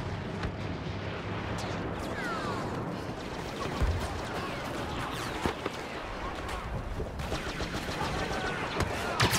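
Star Wars Battlefront battle with continuous dense blaster gunfire and explosions, sharp shots and bursts layered over a steady roar of combat, with speech mixed in.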